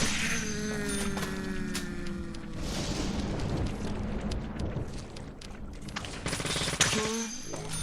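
Shotgun blasts from zombies in the horror video game Deadly Premonition ring out in repeated bursts over a dense, busy game soundscape, with a bleating cry and music layered in and talk in the background.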